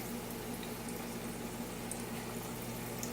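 Philly cheesesteak egg rolls fry in hot oil in a pan, giving a steady, faint, even sizzle with a low hum underneath and no voices.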